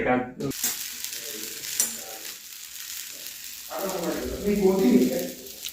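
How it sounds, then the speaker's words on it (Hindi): Dosa batter sizzles and crackles on a hot pan, a steady frying hiss with scraping, while voices talk over it. "डोसा बन रहा है इधर, डोसा"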